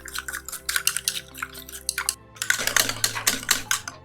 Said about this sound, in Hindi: इसको इतना फेंटेंगे कि इसका जो कलर है वो चेंज हो जाए बिल्कुल